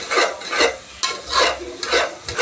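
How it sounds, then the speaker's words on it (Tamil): Tomato rice ingredients sautéing in a pan, with loud rhythmic sweeps of a spoon every half second or so and a close sizzle underneath. "பாருங்கள் எப்படி வதக்கிறேன்னு பாருங்கள்"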